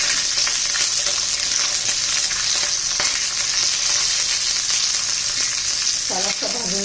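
Green chilies and garlic roast in oil in a pan with a loud, dense, continuous sizzle and some crackling pops close up, and a short scrape of stirring near the end.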